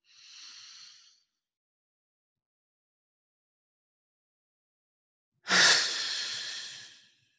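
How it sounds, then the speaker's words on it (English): A slow, deep inhale during a guided meditation, heard close and alone: a short soft breath comes first, then after a long silence a longer, louder airy breath drawn in. "We're going to take the breath in now."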